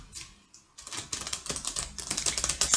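Astro Crush cards being shuffled, a rapid run of crisp papery flicks and riffles that starts faint and grows denser and louder toward the end, close up with no talking.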